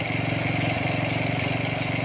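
Honda Wave 125S motorcycle engine idling after a carburetor adjustment, a steady, even putter heard close up with a couple of brief dips in rhythm.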